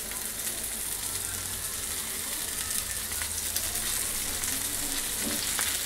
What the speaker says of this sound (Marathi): म्हणजे आपण दुसरे फिश पण टाकायला सुरू करूया, म्हणजे ते पण फ्राय होतील।